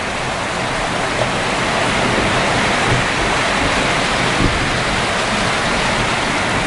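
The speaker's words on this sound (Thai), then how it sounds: "ฝนกระตกนั่นได้ยินบ่ได้ยิน" Heavy rain pours down outdoors during a rural Thai meal, a dense, constant hiss with no pauses or speech, loud and close throughout.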